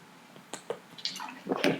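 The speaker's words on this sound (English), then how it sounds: "just going to have a quick drink of water" A quick drink of water is taken close to the microphone, with a few soft wet sips and a gulp coming as short, faint bursts in an otherwise quiet room.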